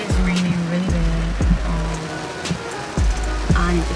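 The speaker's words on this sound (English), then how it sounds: "It is raining really bad." Heavy rain pours down on a car being driven along a road during a horrible storm, a dense steady wash of drops over low road rumble, with periodic rhythmic thumps like wiper sweeps every half second or so.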